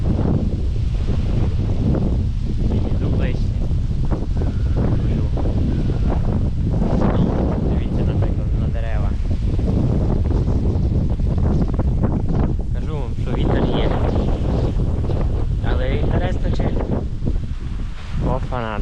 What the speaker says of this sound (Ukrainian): Дивіться, який вітер, дивіться.